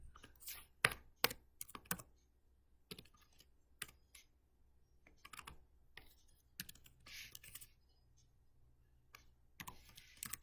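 Typing on a computer keyboard, with bursts of quick, irregular key clicks separated by short pauses, close and fairly quiet, and no talking.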